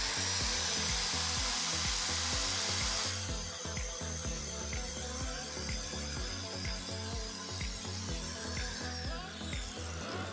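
A Hasston ART3150-001 angle grinder runs for a noise test, starting with a loud high whine that drops after a few seconds into rattling, uneven mechanical clatter.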